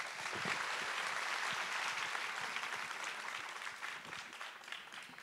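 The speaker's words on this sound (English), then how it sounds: "That deserves another round of applause, guys." Audience applause at a fashion launch event for Manish Malhotra's new venture, a dense, continuous wash of clapping that holds steady throughout with a slight taper toward the end.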